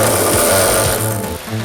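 A rapid mechanical buzzing pulsation from a 1995 Chevrolet four-wheel anti-lock brake system activating under braking, with low rhythmic thumps underneath, steady and fairly loud throughout.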